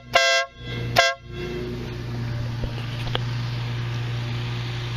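A newly installed horn on a trike gives two short, loud honks about half a second apart, followed by a low idling hum and faint background noise.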